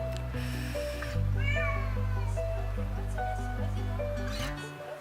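A rescued cat meows loudly and repeatedly at close range, its drawn-out cries rising and falling over a constant low hum, with a person speaking softly in the background.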